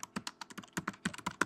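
Keys on a computer keyboard are tapped in a quick, uneven run of light clicks, close and fairly quiet, with no voice over them.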